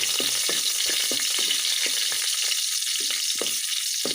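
Crushed garlic sizzles in hot cooking oil in a pan, a steady bright hiss with scattered soft scraping knocks as it is stirred, close and continuous.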